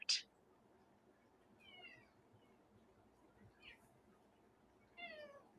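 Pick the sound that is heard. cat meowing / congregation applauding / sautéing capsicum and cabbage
cat meowing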